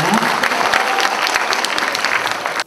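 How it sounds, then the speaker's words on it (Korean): Loud, dense applause from an audience at a college-admissions information seminar welcomes a speaker to the stage, sustained and close throughout before ending suddenly. "큰 박수로 환영해 주시기 부탁드리겠습니다"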